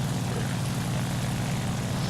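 Engine of a Ki-84 Hayate fighter plane in War Thunder, a loud, steady roaring drone with a deep rumble, continuous and close, with no voices.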